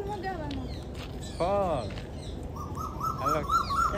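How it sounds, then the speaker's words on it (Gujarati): Birds chirp and call repeatedly in short bursts, fairly close, with a steady noisy background and a few harmonic cries mixed in. "આપણા પક્ષીઓ બહુ નકરા બોલે છે એનો અવાજ આવે પણ છે"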